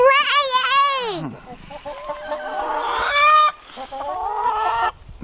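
Hens in a backyard coop, one of them laying eggs, give loud harmonic squawks and clucks up close, with people talking nearby.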